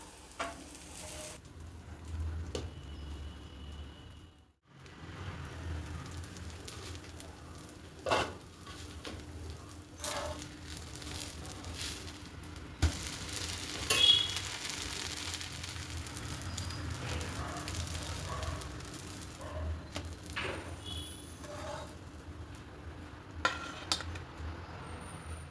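Plain dosa cooking on a pan with about a spoonful of oil, giving a soft continuous sizzle with occasional light clicks and scrapes of a utensil, faint and steady throughout.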